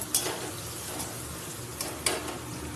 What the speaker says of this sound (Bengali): এবার আমি কারিপাতা দিয়ে একটুখানি নেড়ে নেবো, যে সুন্দর একটা স্মেল বেরিয়ে আসবে।